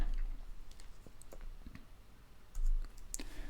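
Mouse clicks while working in Blender 3D software, a few soft, quiet, scattered taps with a couple of brief louder clicks near the end, close to the microphone against a faint background hiss.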